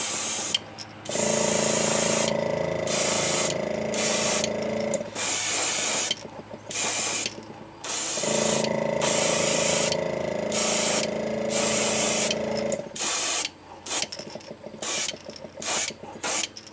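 An airbrush sprays Createx Pearlized Lime paint onto a fishing lure, a loud, close hiss that runs in repeated bursts of several seconds, with short pauses and mechanical clicks between passes.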